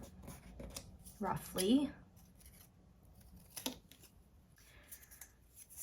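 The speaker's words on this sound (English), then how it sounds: "And then I can just cut both of these to the same size," Scissors snipping through paper scraps while making envelopes, a few short crisp cuts close by, with a person talking quietly around them.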